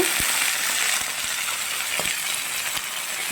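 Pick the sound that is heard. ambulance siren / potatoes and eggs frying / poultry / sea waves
potatoes and eggs frying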